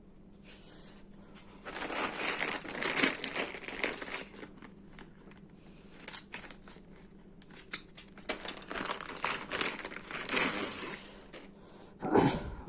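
Plastic packaging on new motorcycle spare parts is cut and torn open with scissors, giving close bursts of crinkling, crunching and tearing in uneven clusters separated by quieter pauses, ending in a sharper crackle.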